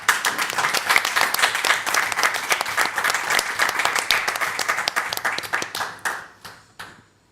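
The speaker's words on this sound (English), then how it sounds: "Big round of applause for everyone." Conference audience at DappCon24 in Berlin breaking into sustained applause, dense and steady for about six seconds, then thinning into a few scattered claps and fading out; no talking over it.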